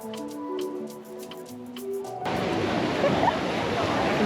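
Waterfall pouring into a pool near an old coastal town in Paraty, Brazil: a steady broad rush of falling water that starts suddenly partway through and continues loud, after a quieter stretch with faint tonal sounds.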